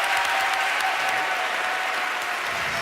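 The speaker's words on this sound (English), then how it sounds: "a huge round of applause for Cantabile" A large audience gives a choir a sustained, dense round of applause after a school choir competition performance, steady and loud throughout with no voices over it.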